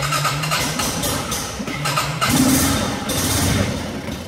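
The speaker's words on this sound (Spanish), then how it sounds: "la moto está encendida" An Italika ATV 250 engine cranks and catches, then settles into a steady, rumbling idle close by with no voices.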